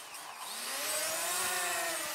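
DJI Mavic Mini quadcopter hand-launched and flying, its propellers giving a steady high-pitched whine that rises slightly as it climbs away, holding at an even level throughout with no talk.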